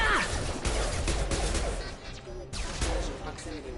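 Gunfire in the video game Mass Effect 2: a flurry of sharp shots and impacts in a short burst, mixed with game sound effects and a voice talking over the action.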